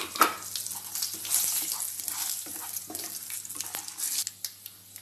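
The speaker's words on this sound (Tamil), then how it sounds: "இப்போ எண்ணெய் காஞ்சிருச்சு, இப்போ இந்த கடுகு உளுந்து பருப்பை போடுவோம்." Mustard seeds, urad dal, fennel seeds and cashews frying in hot oil, crackling and popping in uneven bursts over a constant sizzle, with sharp little spits and a spoon stirring through.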